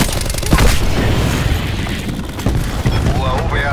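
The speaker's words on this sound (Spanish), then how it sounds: "Granada de racimo lista." A cluster grenade goes off in Call of Duty: Black Ops 4 during a team deathmatch on Grind, a loud booming blast followed by a rumbling burst of smaller crackling detonations.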